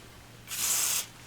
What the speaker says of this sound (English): Spray my little strip of paper,